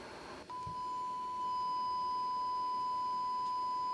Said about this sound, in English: I will play a 1 kHz sinusoidal tone from my phone